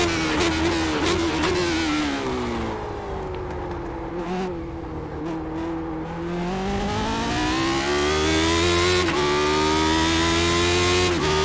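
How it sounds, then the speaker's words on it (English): A race car engine in the iRacing sim at Monza roars continuously, its pitch dropping and climbing as it downshifts through gears, loud and close. "I love the engine when you come down through the gears."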